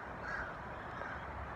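A crow on a Florida pavement gives a single faint caw over a steady outdoor background hiss.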